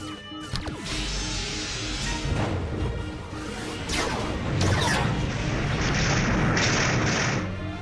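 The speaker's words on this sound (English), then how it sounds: "Firing phaser 1." Sci-fi starship phaser fire on the Excelsior strikes and rebounds in a loud crash and booming explosion, with whooshing energy bursts and rumbling impacts layered over nearly eight seconds.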